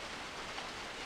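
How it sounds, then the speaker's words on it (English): Pouring rain in the visual novel Nukitashi, a dense, even hiss of heavy rainfall with no breaks and no speech. "the pouring rain feels unusually loud to my ears"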